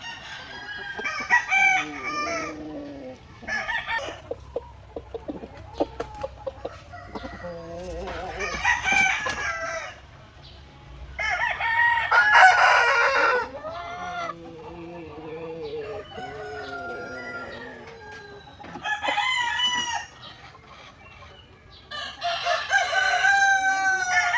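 A rooster crows repeatedly among hens on a small farm, several loud crowing bursts spaced a few seconds apart with softer clucking between them, fairly close.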